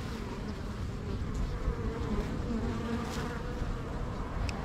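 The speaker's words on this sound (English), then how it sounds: "they're vibrating and they're kind of giving me advance warning that they don't want to be messed with" Dense, loud buzzing of many agitated honeybees in a tree, vibrating continuously, a thick hum with no pauses and no voices.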